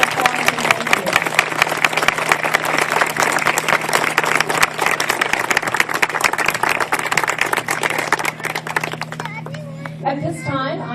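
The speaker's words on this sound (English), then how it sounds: "Let's give everyone another round of applause and thank you." A large audience claps steadily in dense, sustained applause that thins out toward the end, with a low hum underneath.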